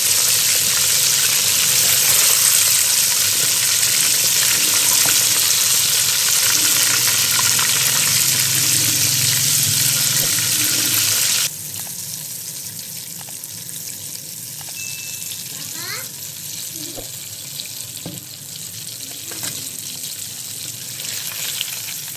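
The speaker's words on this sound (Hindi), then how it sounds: "4 से 5 मिनट तक डीपली फ्राई करेंगे ताकि चिकन अच्छी तरह अंदर तक जो है" Chicken deep-frying in hot oil over a medium flame gives a loud, steady sizzle and bubbling that drops to a quieter crackle partway through, with scattered faint pops and no talk.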